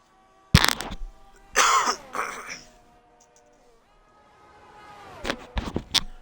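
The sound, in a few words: coughing from a man with a cold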